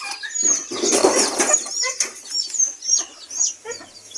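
Chickens on a farm clucking and squawking close by, with a flurry of wing flapping early on, then repeated sharp calls and chirps in an irregular rhythm.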